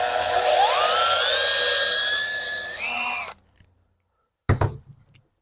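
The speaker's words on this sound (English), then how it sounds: "I put a sacrificial piece of wood underneath this, just so I would drill into my workbench." A drill bores a hole through wood, with a sacrificial board underneath to protect the garage workbench. A close, high whine rises in pitch and holds steady for about three seconds, cuts off, and is followed by a brief knock.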